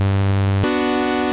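A single voice of the Sylenth1 software synthesizer on its init preset plays a buzzy, raw sawtooth-like tone, one note shifting abruptly to a higher pitch partway through, loud and alone.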